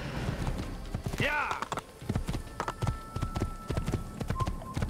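Rhythmic horse hooves clop at a quick gallop in Assassin's Creed, with a horse whinny early on and a voice briefly speaking over it.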